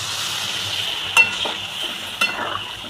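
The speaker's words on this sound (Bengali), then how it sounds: "এবার জল দেব।" Water poured into spice paste frying in oil with fried potol dumplings, producing a loud, steady close sizzle with a couple of brief clinks of a utensil against the pan.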